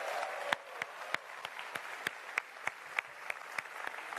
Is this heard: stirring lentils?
no